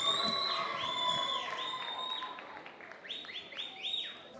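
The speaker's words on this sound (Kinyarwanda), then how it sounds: "Ayandi mashyi menshi cyane ku ntayoberana" A live audience claps steadily while high, wavering ululation calls rise and fall above the applause, with the loudest stretch near the start.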